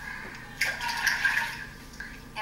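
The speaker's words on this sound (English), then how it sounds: "We're going to add water to our bowl" Water pours into a bowl in a steady, close splashing stream lasting a couple of seconds, with no talking.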